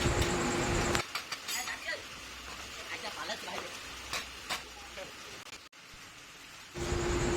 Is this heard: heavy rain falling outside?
yes